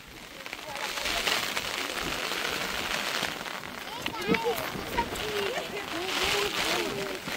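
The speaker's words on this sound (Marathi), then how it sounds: "मोठा पाऊस आलाय." Heavy rain pours near a village waterfall, a dense steady hiss of drops on surfaces throughout, with people talking and calling out over it.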